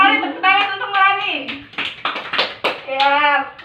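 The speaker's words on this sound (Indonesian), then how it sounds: "tepuk tangan untuk Melani" Students in a classroom clap briefly for a classmate, a short burst of scattered hand claps mixed in among children's voices talking over and around it.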